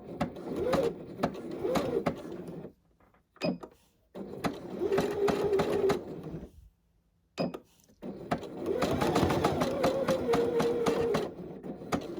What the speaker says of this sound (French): Hop, on va coudre.